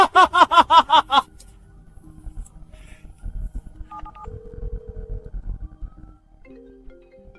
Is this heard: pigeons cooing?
no